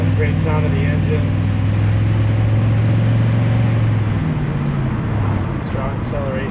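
A 1958 GMC 100 restomod pickup truck accelerates hard, its engine a loud, steady low rumble that climbs in pitch and holds close throughout, with a faint voice in the background.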